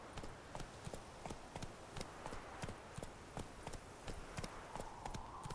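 The horse Roach's hooves clip-clop at a quick, steady trot in The Witcher video game, faint and even over a soft background wash, with a little voice present.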